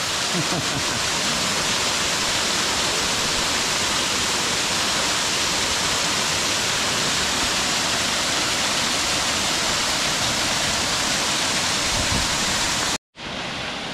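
A small waterfall on the Wairoa Dam track in the Hunua Ranges rushes loud and continuous at close range, with no talking, and cuts off briefly near the end.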